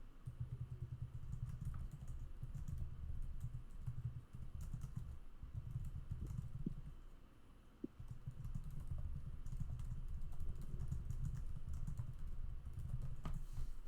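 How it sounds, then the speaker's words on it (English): Keyboard typing during a commentated online card-game tournament, a quiet run of clicky keystrokes sitting over a steady low hum and background noise, with no talking. "I'll just type it."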